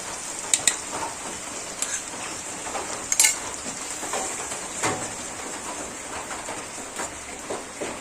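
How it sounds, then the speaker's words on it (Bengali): Sour yogurt hitting a pan of frying spices, giving a steady soft sizzle with a few sharper crackles and spoon clinks, close and moderately quiet with no talking. "এবার আমি এই টক দইটা দিয়ে দেবো"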